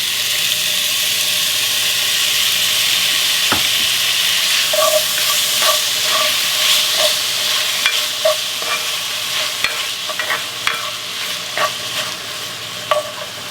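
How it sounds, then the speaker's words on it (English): Garlic and chopped tomatoes sizzling in a frying pan, a steady close hiss of frying with repeated light scraping clicks from stirring. "You see that garlic is nice and sizzling."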